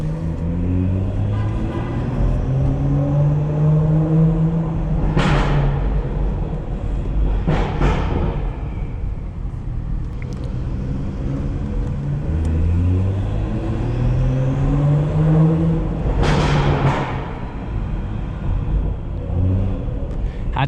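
Car exhaust with a deep, low burble, rumbling steadily and swelling in a few revs and pops, close and loud, with no voices over it.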